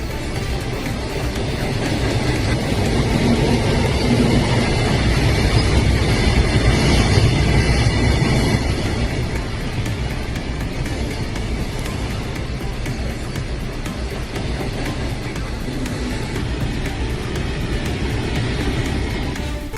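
A long freight train of 354 wagons and 7 locomotives rumbles steadily past at close range, a loud continuous roar of wheels and clanking wagons that never lets up.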